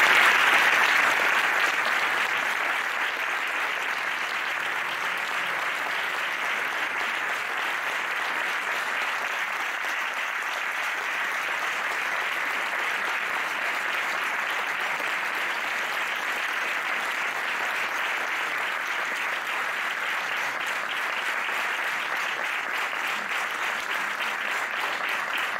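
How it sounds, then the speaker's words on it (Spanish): A large audience claps steadily to welcome Manuela Carmena onto the stage at a citizens' meeting; the applause is dense, even and sustained, strongest at the start, then holding at a constant level for about twenty-five seconds. "Os pido un fuerte aplauso para recibirla."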